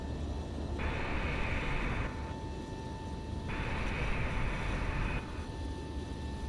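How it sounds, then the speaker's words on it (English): Simulated Boeing 737-800 auxiliary power unit running, heard from outside the aircraft in Microsoft Flight Simulator 2024: a loud, steady mechanical whine and roar with sustained tones, continuous and unbroken throughout. "let's turn on the APU and we'll give you a little sound check of that outside"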